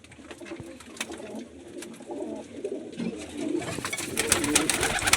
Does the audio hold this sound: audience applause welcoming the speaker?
no